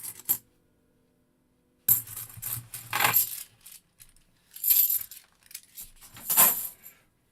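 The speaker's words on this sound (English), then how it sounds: "Listen to the coins." Half dollar coins clink and jingle in several loud bursts of metallic clattering, separated by short silences, close and with no talk.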